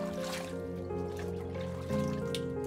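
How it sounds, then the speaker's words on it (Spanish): Water trickles and splashes as klesh, a white herb, has its leaves washed by hand in Santiago Atitlán, Guatemala. The liquid sound is close and continuous, mixed with a steady tonal background. "se lava la hierba blanca, llamada klesh en el idioma maya tztujil, acompañados de otro tipo de sonidos de agua"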